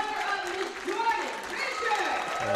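Spectators applaud at the PWBA Stockton Open bowling finals, a women's professional tournament, with a steady crowd clapping kept low under a commentator talking throughout.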